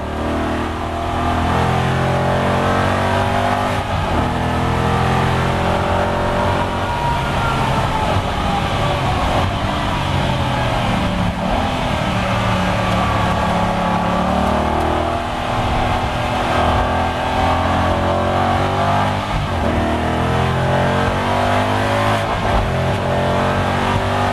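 A loud Aston Martin V8 Vantage GT4 race car engine heard from inside the cabin, droning and revving steadily with gear changes at high, constant volume, no talking.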